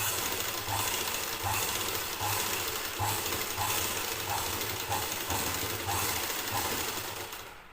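A sewing machine stitching a blouse sleeve, a steady mechanical whir with regular rhythmic pulses roughly every three quarters of a second, close and continuous with no talk.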